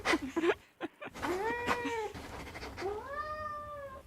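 A cat meows clearly several times, with a short cry near the start, then a longer drawn-out meow, another rising meow, and a final sustained one, each close and fairly loud with brief gaps between.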